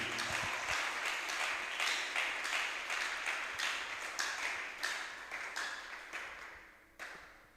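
A church congregation applauds in praise of the Lord during a deliverance service, steady clapping and cheering filling the room throughout with overlapping bursts.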